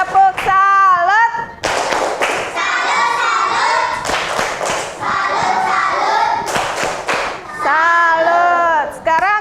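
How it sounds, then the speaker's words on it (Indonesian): Rhythmic group clapping by a fourth-grade class honoring a group in an Indonesian classroom, loud and close, alternating with children's voices chanting and talking between bursts. "tepuk tangan dulu untuk kelompok elang"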